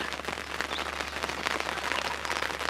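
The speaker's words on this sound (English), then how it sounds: "we got pouring rain" Heavy rain pours down steadily, a dense hiss of drops pattering on surfaces with a low hum underneath.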